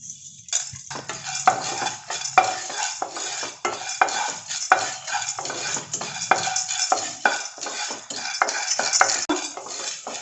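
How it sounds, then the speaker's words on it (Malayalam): Split roasted gram (pottukadala) dry roasting in a pan for paruppu podi, stirred continuously with a spoon, giving a steady run of close scraping and rattling clicks with no talking. "നല്ലപോലെ ഉടച്ച കടല നല്ലപോലെ വറുത്ത് കിട്ടിയിട്ടുണ്ട്."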